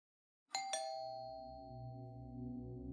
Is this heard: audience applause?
no